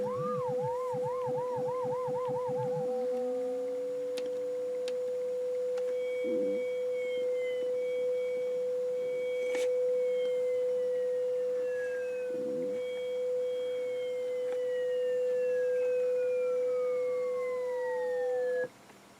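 Test tones run through the crush ring effect on a Technics SL-DZ1200 direct drive digital turntable: a steady pitched tone with warbling, sweeping and falling electronic pitches layered over it, siren-like and synthetic, with no talking.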